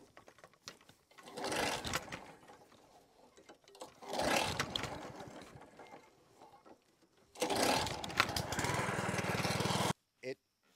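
A petrol lawn mower with clutch and drive controls is started by pull cord. Two short sputtering bursts come first, then a longer run as the engine catches, before it cuts off abruptly.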